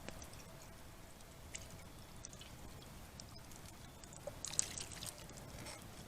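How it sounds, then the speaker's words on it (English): Red wine sauce from campfire-braised beef short ribs strains through cheesecloth as a soft, steady trickle and pour, faint, with a few light drips toward the end. "So now we need to strain the sauce."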